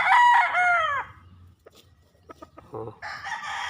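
Young gamecock stags crow in a backyard gamefowl yard, one long harmonic crow up close at the start, then scattered clucks and a second crow rising near the end.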